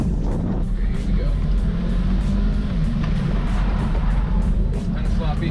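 A Volkswagen Jetta engine holds a steady, loud drone under hard throttle on an autocross course, continuous and close for the whole stretch with no break.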